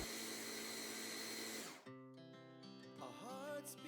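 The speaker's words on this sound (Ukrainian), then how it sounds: "Залишки від бісквіту я перебила в блендері." A blender whirs loudly as it crushes leftover sponge cake into crumbs, a dense motor roar that cuts off after a couple of seconds and gives way to music.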